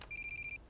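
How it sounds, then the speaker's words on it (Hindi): A telephone rings in a quick trilling electronic pulse, one short burst of about half a second, clear and fairly close over a quiet background. "अजय सर, आपका फोन।"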